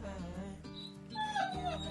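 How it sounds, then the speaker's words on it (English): Tucker, a young Labrador Retriever puppy, plays with a squeaky toy, giving short high squeaks and soft whimpering yips over a steady low background hum, fairly faint and close. "that's Tucker with a squeaky toy"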